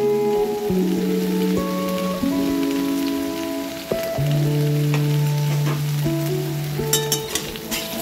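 Salted vegetables fry in a pan, a continuous close sizzle like rain on a surface, with a steady tonal hum running underneath and a few small clicks toward the end.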